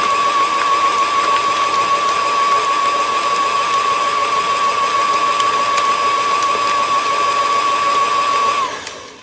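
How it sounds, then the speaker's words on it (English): An electric mixer beats a sugar mixture with vanilla extract until smooth, giving a loud, steady motor whine that runs unbroken for several seconds and then winds down at the end. "we're just kind of beating this until it's smooth"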